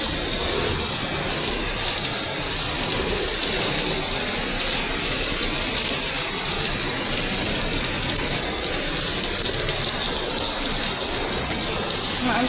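Heavy rain pours steadily and loudly in Macau, a dense continuous hiss and patter with no pauses and no voices.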